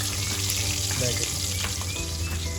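Green chillies frying in hot oil in a pan while cooking a chicken curry, a constant dense sizzle heard close up throughout.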